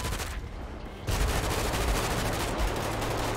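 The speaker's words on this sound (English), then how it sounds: "Oh my god, he's shooting me." Sustained bursts of gunfire in the GTA 5 video game, a dense, loud fusillade of rapid shots that briefly thins before surging back heavier and continuing without pause.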